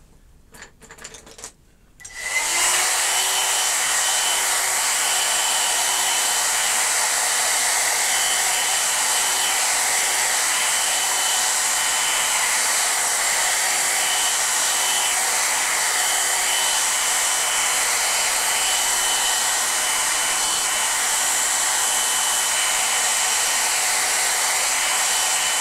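Hair dryer blowing on a watercolor painting, switched on after a couple of seconds of quiet handling and then running loud and steady at close range with a constant whirring roar.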